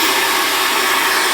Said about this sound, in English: put the hair dryer on a medium heat setting